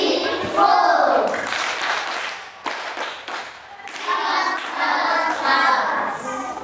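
Schoolchildren in a multiplication lesson clapping for themselves, quick bursts of small hands clapping in uneven groups, with young voices chattering between the claps in a classroom.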